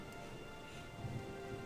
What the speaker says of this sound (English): the game is still playing the rain